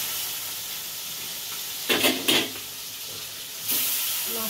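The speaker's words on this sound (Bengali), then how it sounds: "মাছ কড়াতে ছেড়ে দেবো, মাছগুলো" Fish going into a hot wok (kadai) of oil with a steady, loud sizzle and hiss close up, broken by two sharp bursts of spattering as the pieces drop in and another surge near the end.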